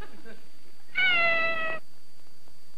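A single clear cat meow, about a second long, sounds alone in the MTM production company logo, cut cleanly against near silence.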